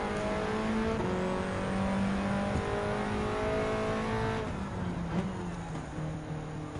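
A 2017 Alpine A110 race car drones steadily in Gran Turismo 7, its engine holding a sustained revving tone with shifting pitch bands as it drives, loud and continuous throughout.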